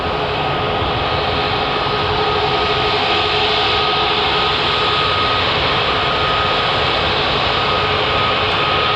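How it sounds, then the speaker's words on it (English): A Jet2 passenger jet taxiing out at Manchester Airport, its engines giving a loud, steady whine and roar that holds level throughout, close by and uninterrupted. "There's also a Jet 2 on its way out."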